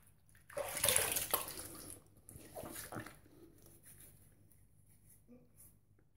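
Running water rinses shaving lather off a face after a pass with a Parker BestSilverSteel straight razor, a splashing rush that swells in the first two seconds, then trails into softer, intermittent trickles.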